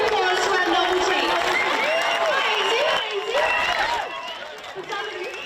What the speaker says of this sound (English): If everyone can huge round of applause to our novelty